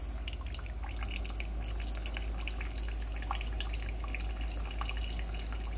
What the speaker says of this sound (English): See it dripping?